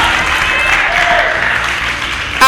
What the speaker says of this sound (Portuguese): Aplaude para Jesus Cristo